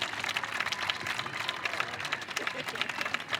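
Audience applause with some cheering at an evening show jumping competition, a broad, steady wash of clapping from a crowd that holds for the whole stretch without speech.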